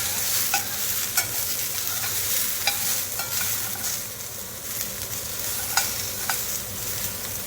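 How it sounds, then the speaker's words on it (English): Chicken sizzling steadily in a little oil in a pan, a close, continuous hiss and crackle with occasional sharper pops, heard alone. "So we have a nice sizzle"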